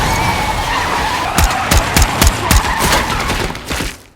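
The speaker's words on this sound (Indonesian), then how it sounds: "mobil Tyler terguling akibat senjata RPG" A car overturned by an RPG in an action film: skidding and tire noise, then a quick run of sharp crashing impacts that fades into a final thud.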